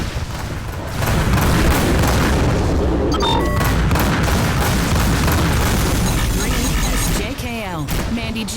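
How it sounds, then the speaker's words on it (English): An incoming missile explodes in Rebel Galaxy Outlaw, a heavy boom in the middle of sustained loud space combat with bursts and blasts. Brief electronic tones and a synthetic cockpit voice show up near the end. "Missile inbound."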